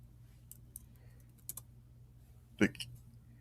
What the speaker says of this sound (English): I was typing out this comment